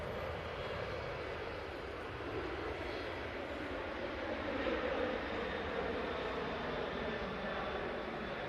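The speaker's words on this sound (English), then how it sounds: "Next departure is the RyanAir 737-800 off to Belfast." Ryanair Boeing 737-800 departing Manchester Airport for Belfast, a broad continuous jet roar that swells slightly in the middle and stays steady, heard from a distance with no talk.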